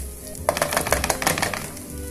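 A spoon works through rice in a pan, producing quick scraping, rattling strokes in a steady rhythm, close and moderately loud for about a second and a half, alone without talk.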